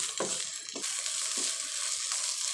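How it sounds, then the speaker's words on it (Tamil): Gongura leaves with salt are stirred in a pan, a soft sizzle underneath a few quick scraping strokes of the spoon, close and without talk. "உப்பு சேர்த்து நல்லா கலந்து விட்டுடலாம்."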